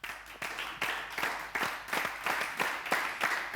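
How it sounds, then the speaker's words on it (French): Audience at a slam poetry contest applauding the candidates, a smattering of clapping in uneven bursts, fairly quiet and moderately close, with no voices over it. "On applaudit les candidats qui participent au concours de slam avec Menteur Ambulant."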